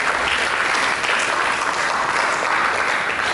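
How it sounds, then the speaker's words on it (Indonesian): A church congregation breaks into loud, dense applause during a sermon, many hands clapping at once in a continuous close roar for a few seconds. "Berikan tepuk tangan."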